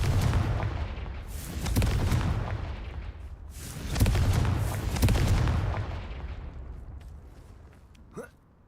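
Confringo blasting spells in Hogwarts Legacy set off a run of loud, booming explosions, several heavy blasts in close succession that fade into rumbling decay, ending with a short whooshing burst.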